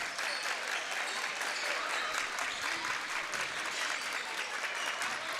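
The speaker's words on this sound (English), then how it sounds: "Crowd ramping up, knowing the significance of each possession here" Basketball crowd at a WIAA boys varsity game, Kenosha St. Joe's at Shoreland Lutheran, cheering and clapping in a gym, a steady loud roar of applause and shouts sustained throughout.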